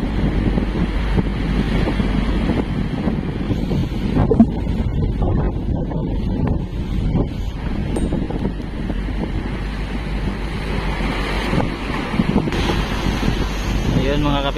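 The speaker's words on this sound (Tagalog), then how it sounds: "Yan, kaya malamig yung hangin dito." Steady, cold wind ahead of an approaching typhoon roaring across the microphone in Dilasag, Aurora, Philippines, with a voice talking in Filipino over it throughout.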